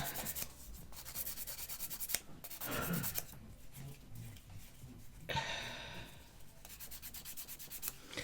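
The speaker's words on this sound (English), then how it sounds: "just rough the top of my nails over. This will get rid of any glue as well." Nail tips being buffed with a file to remove shine and glue, giving rapid, close scratchy rubbing strokes in bursts over about eight seconds with brief pauses between.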